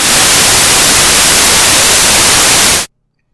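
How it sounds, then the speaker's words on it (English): Steady, loud Gaussian white noise hisses evenly across the whole band for nearly three seconds, then cuts off abruptly into silence. "That's an example of a type of noise called Gaussian white noise."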